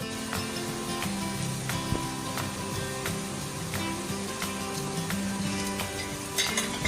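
Baby potatoes crisping in a hot pan sizzle steadily, broken by regular sharp clinks and taps of a spoon or spatula against the pan.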